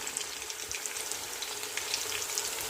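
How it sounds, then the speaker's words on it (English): Chicken curry frying in a pan at home, a steady close sizzle with dense crackling and popping that runs without pause, no voices over it. "I'm going to be cooking for about 3-4 minutes, but still it's not getting brown yet."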